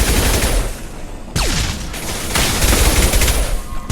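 Repeated shotgun blasts in a Mass Effect 2 firefight, loud and close, with sharp booming reports and echoing decay, several shots in quick succession over a few seconds with no talk.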